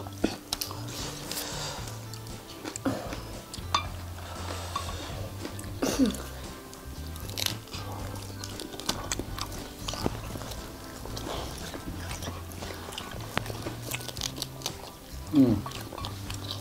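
Crunchy fried eggplant being bitten and chewed, repeated close crunches and moist chewing scattered throughout, with people talking intermittently over the eating.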